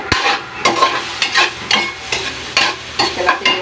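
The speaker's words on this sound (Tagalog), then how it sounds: "Tapos, igisa-gisa na natin." Shelled seafood sautés in a pan alongside tomato, with repeated scraping stirs every half second or so over a steady close sizzle and no talk.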